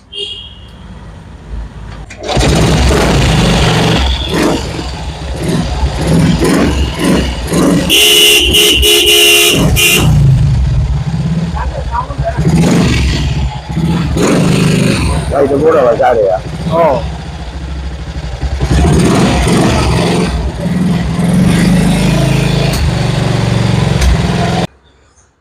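A 70-year-old vintage BSA motorcycle engine starts and runs steadily for over twenty seconds, a loud continuous rumble with people talking over it.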